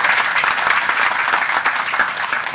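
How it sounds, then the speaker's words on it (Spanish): Strong applause from a crowd gathered at a Dominican political campaign event, greeting a candidate for deputy; dense, loud, steady clapping fills the whole moment without pause. "Quiero pedir un fuerte aplauso al próximo diputado"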